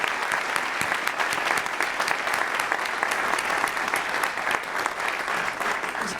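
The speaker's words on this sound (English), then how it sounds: "Please stand and let's give a round of applause to Isabella and his friend also." A crowd at a military retirement ceremony for a master sergeant claps in steady, dense applause that continues unbroken, close and full, with no speech standing out.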